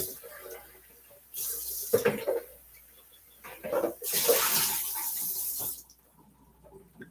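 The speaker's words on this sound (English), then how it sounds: "I'm just rinsing out the pitchers because I'm going to make the honey mustard now." Running water rinses out pitchers in a kitchen sink, two bursts of splashing flow separated by a pause, with a person speaking faintly during the quieter moments.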